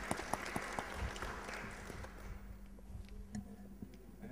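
Audience applause at a conference session on cybersecurity and trust: scattered claps in a large room, fairly faint and gradually thinning out over a few seconds.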